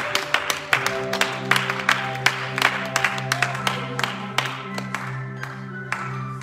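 A church congregation claps to acclaim Jesus, with steady rhythmic hand claps over sustained organ or keyboard tones and faint voices in the background.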